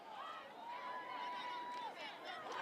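A crowd at a high school football championship game between York High and Central York on a cold night, a steady broad roar of voices from the stands with a whistle-like tone rising through it.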